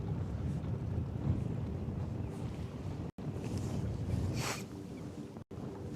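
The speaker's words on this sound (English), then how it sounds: "the wind picked up, it was getting annoying trying to keep up with the current in this wind" Wind gusts across a microphone while kayak fishing on a river near a marina, a constant low rumbling buffet broken by two brief dropouts, with no voices.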